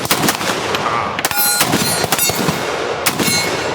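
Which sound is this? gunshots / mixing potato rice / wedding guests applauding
gunshots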